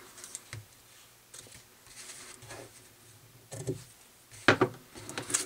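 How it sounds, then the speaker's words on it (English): Scissors trimming the tails of a ribbon on a handmade card, with a few short, close snips and light crafting taps spread unevenly, fairly quiet overall. "And trim our tails."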